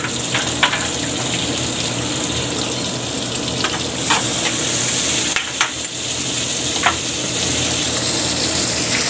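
Garlic frying in oil in a pan for squid adobo, a steady loud sizzle throughout with occasional crackles and light clinks, close up and with no voices.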